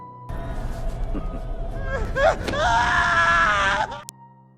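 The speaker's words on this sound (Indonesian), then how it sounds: "terdengar suara teriakan para mutan kanibal yang menangis melihat anaknya telah tewas dengan kepala terpenggal" Mutant cannibals in a horror film scream and wail in anguish, a loud rising cry that builds to a sustained shriek, then cuts off abruptly.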